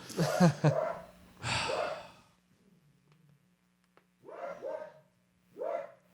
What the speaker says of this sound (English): That's the bark, and we know he's going to circle around after going 4 houses.